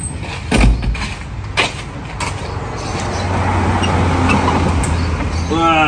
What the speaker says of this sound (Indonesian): kita buka kap mesinnya Mas Edi ya.